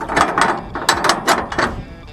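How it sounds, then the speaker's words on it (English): A ratchet strap is tightened on a wheel cradle hitch around a car tire, giving a series of loud, close ratcheting clicks in quick uneven bursts. "Tighten up your ratchet."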